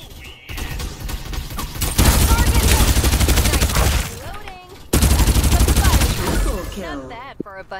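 Rapid automatic gunfire in the video game Farlight 84, loud dense bursts of shots fired in two long volleys separated by a brief gap, with game effects and a voice heard around them.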